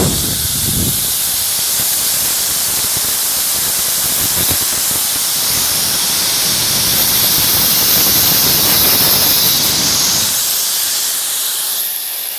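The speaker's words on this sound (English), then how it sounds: "I find the easiest way is with a little cutting wheel on your grinder" An angle grinder with a small cutting wheel slices through a Lokar throttle cable, a loud steady high-pitched hiss and whine running for about ten seconds before cutting off.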